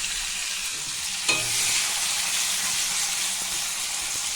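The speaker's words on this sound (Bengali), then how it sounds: "এবার টমেটোটা কুচি করে নিয়েছি, এটা একটু আমি তেলে নেড়ে নিচ্ছি" Chopped tomato stirred in hot oil for a jackfruit curry, with a loud continuous sizzle and a sharp clatter of the spoon as the stirring starts, close by, no voices.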